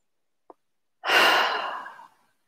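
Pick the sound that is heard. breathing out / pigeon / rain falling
breathing out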